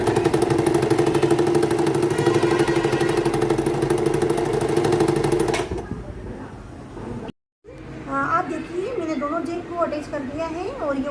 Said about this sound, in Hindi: अब मैं सिलाई लगा के आपको बताती हूँ